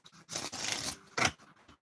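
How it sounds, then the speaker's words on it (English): A brand-new deck of playing cards is shuffled up close: a longer papery riffling burst, then a shorter sharp flutter, quiet and with no talking. "I just wanted to make sure I shuffled it up beautifully"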